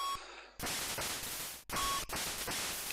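Rapid bursts of 8-bit gunfire from the NES shoot-'em-up 1942 run almost continuously as a harsh, noisy crackle, with short electronic beeps and one brief dropout partway through; no one speaks.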